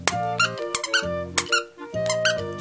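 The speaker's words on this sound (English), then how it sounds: "You gotta squeak it." A squeaky dog toy is pressed repeatedly, giving three pairs of sharp, high, wheezing squeaks in a steady rhythm, near and fairly loud with no talking over them.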